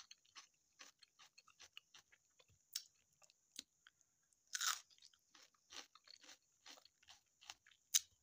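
Crisp, crunchy bites of homemade pickles with onion, a run of sharp, close crunches repeating irregularly against near silence.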